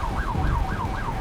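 An emergency vehicle siren wails in a rapid, repeating up-and-down sweep amid the Fort McMurray wildfire, loud and steady over a low rumble of traffic.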